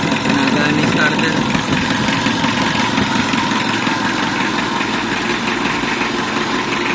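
A car engine idles steadily after a starter repair, a loud, close, even rumble with constant vibration throughout, some voices faintly mixed in.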